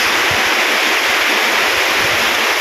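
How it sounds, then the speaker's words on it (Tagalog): Floodwater rushing outside a house in a rural area during Typhoon Ferdie, a loud, steady, broadband roar of moving water with no pauses and no voices. "baha na po dito sa labas"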